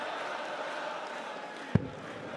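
Steady crowd roar fills a darts arena at the Swiss Darts Trophy, with Peter Wright facing Richard Veenstra. A single sharp thud cuts through late on before the noise carries on.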